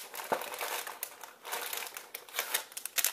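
Foil booster packs of Dragon Ball Heroes trading cards crinkle and crackle up close as they are torn open and handled, in irregular bursts of rustling with short pauses between.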